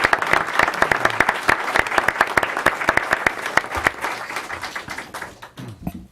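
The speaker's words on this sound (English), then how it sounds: "Let's give a big round of applause for Rocio Trevino." A board of education meeting crowd gives sustained applause in honour of Rocio Trevino, with dense, steady clapping that tapers off near the end.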